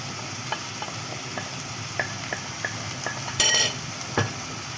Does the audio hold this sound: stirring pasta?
yes